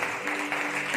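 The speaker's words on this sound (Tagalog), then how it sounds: "Can you clap your hands again one more time?" A church congregation claps their hands together in a dense, steady burst of applause filling a worship hall, with voices faintly mixed in beneath the clapping.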